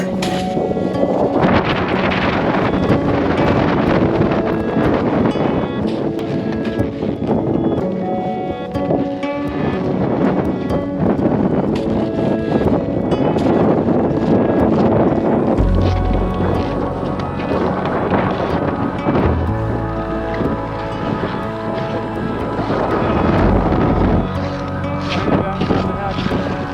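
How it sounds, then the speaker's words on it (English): Strong storm wind, around 50 knots, buffets a tent camp in Antarctica, a continuous loud roar with gusting surges and flapping, close to the microphone with no break. "They say 50-knot wind, so That's pretty wild."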